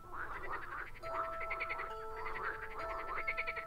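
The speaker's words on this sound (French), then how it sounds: "Les grenouilles coassaient dans le marais." Several frogs croak together in a marsh as a storytelling sound effect, a steady chorus of rhythmic, ratcheting calls that carries on quietly throughout with no speech.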